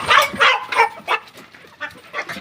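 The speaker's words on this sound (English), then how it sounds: "a big dog." A big dog barks in a quick series of about six loud, close barks with short gaps, the later ones softer, with no talking over them.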